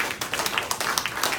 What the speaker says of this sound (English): So again, another round of applause for Ravi.